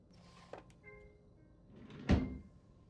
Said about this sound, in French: Le tiroir, je crois qu'il s'est fermé.